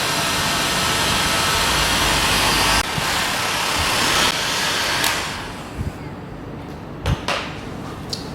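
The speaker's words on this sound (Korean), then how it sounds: "히팅 건으로 베어링 집 테두리를 가열해 줍니다." A heat gun blows steadily on the rim of a front hub bearing housing from an R1200GS motorcycle wheel, a loud constant whooshing roar that cuts out partway, then a few light knocks and clatters follow.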